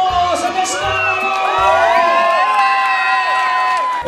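Children shouting, whooping and cheering loudly at a birthday party, a dense, sustained crowd roar of high voices filling the whole stretch without pause.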